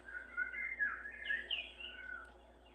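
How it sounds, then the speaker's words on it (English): Birds chirp and whistle in a short, bright, warbling phrase, moderately faint and alone, as background ambience in the video game Undertale. "I love how, like, the birds are chirping in the background"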